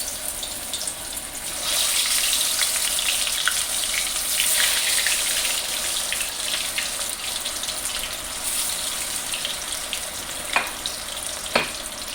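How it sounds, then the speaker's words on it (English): Fish frying in hot mustard oil, a steady crackling sizzle throughout, louder after a couple of seconds, with a few sharp pops and spits near the end. "I'm going to fry my fish."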